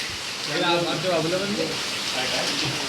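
Rain falling in a village at mealtime, a steady hiss of drops under a person talking nearby, continuous throughout.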